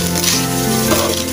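Rice frying in a pan with pepper being added, giving a steady, close, loud sizzle and crackle throughout, with no one talking.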